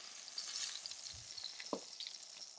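Duck sizzles faintly in a pan as the frying dies down, a soft crackle with a few scrapes and a brief clink.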